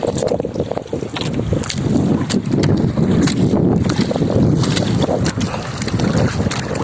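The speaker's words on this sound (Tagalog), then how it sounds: "Malakas na hangin." Strong wind rushes steadily across the microphone outdoors near water on a fishing trip, a constant blustery roar with sharp gusty crackles.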